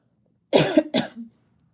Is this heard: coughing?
yes